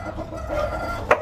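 Imported breeder chickens on a farm in Tiaong, Quezon: a single short cluck stands out against steady faint background ambience, with softer fowl sounds around it.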